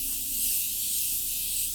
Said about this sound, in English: I'm gonna go in with my Morphe setting spray